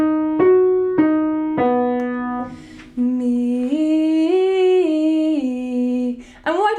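A solo singing voice works through a light, low-volume vocal arpeggio exercise, stepping up and down through sustained pitched notes in a clear, close tone, with short piano-like struck notes at the start and no talking.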